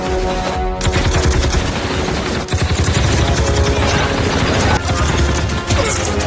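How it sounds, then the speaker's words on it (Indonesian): Dense gunfire rings out through a loud film shootout between a SWAT team and armed attackers, with rapid bursts, crashes and impacts running almost without a break over the full stretch. "terjadi pertempuran baku tembak yang tak terelakkan"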